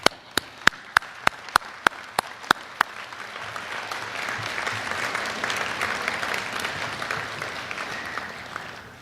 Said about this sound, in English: give a big round of applause to everybody here that is